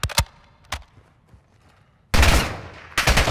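Gunfire in Call of Duty Modern Warfare 2 on PC: a few sharp single shots early, then after a quiet stretch, loud sustained bursts of automatic fire.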